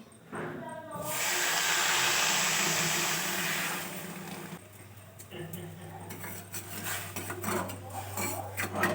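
Water poured into a wok (kadai) holding sugar to make syrup, a steady rushing pour lasting a few seconds that ends in clattering kitchen sounds and a low steady hum.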